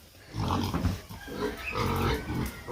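Pig grunting on a rural farm, a run of low, close grunts and snorts in uneven bursts with no talk over them.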